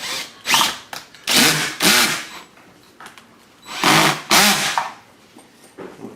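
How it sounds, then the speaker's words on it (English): Cordless power drill driving screws into a wooden dining chair frame, with several short whirring bursts separated by pauses, close and fairly loud, with no talking. "Make sure your drill is set to no more than 2 or 3, because you don't want to over tighten it and it will strip the screw."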